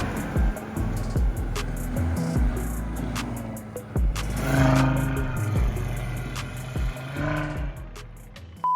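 A 2023 Audi RS 3 on Pirelli tires pushes through deep snow, its engine revving and surging in waves over clattering and whooshing from below the car, close and loud.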